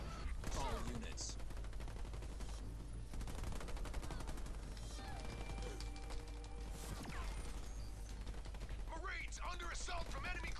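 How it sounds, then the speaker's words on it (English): Rapid gunfire from enemy ground troops in Halo Wars 2 rattles on in dense, overlapping bursts through a loud battle mix, with a brief voice cutting in. "Fire from enemy ground troops."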